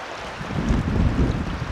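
Wind gusting by the sea during a snow storm, a steady broadband roar with low rumbling buffets that swell after the first half second and stay loud throughout, with no voices.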